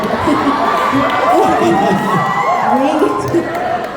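A theatre audience at a Hamilton fan event in Manila cheers and whoops loudly, a dense, sustained crowd roar of many voices with shrill shouts rising above it.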